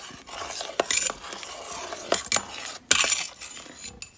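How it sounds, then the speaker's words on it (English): Spoon stirring split pea soup with carrots, potatoes and ham pieces in an Instant Pot, giving soft scrapes and a few sharp metallic clinks against the pot at an uneven pace, close up and alone. "You just take it and you just stir it up."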